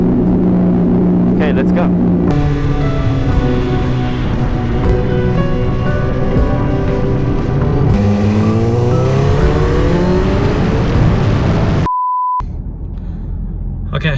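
A rebuilt Honda CBR 1000RR motorcycle engine fires up and runs loudly up close, its tone rising and falling through revs for several seconds before cutting out, with someone speaking briefly over it.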